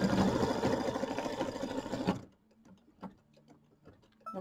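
An embroidery machine stitches a fabric placement line in a steady, rapid mechanical chatter that stops abruptly about halfway through, followed by faint clicks and small mechanical movements.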